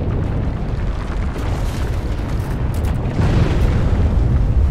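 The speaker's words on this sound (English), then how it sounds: "it's now exploding" A loud, sustained explosion in the video game Volcanoids during a co-op attack on an enemy drillship, a heavy rumbling boom that roars steadily for several seconds and swells slightly toward the end.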